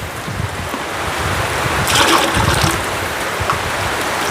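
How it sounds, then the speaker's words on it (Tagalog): Water poured into a pitcher on a rainy day in the mountains: a steady splashing, trickling stream that swells briefly in the middle, with no talk over it. "Ilipat ko tong tubig."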